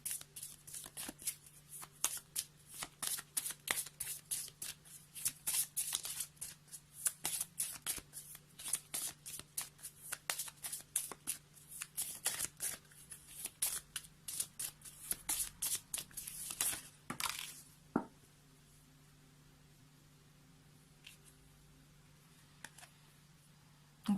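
Tarot cards are shuffled close up in a steady run of crisp riffling flicks for about seventeen seconds, then stop, leaving near quiet with a few faint handling sounds.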